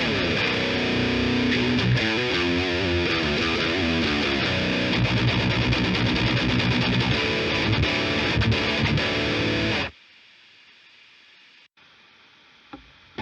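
Distorted electric guitar riffs and sustained chords ring out loud through a FLAMMA preamp with a Vox AC30 2x12 cabinet impulse for about ten seconds, then stop dead, leaving a faint hiss and a couple of small clicks.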